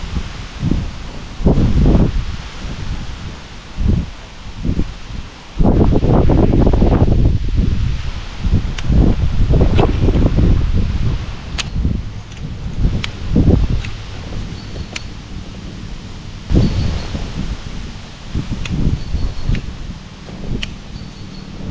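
Gusty wind buffets the microphone outdoors on the Dordogne river during float-tube fishing, rising and falling in loud rushes with rustling between gusts and no talking.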